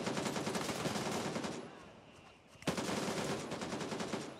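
Rapid automatic gunfire in the video game Gray Zone Warfare, a loud, dense stream of shots that pauses for about a second and then resumes just as hard.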